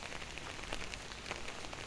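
Heavy rain falling in Barishal, a steady dense hiss of drops on surfaces with scattered louder patters, continuous and fairly close throughout, with no talking.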